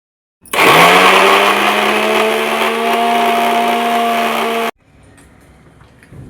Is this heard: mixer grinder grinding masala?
yes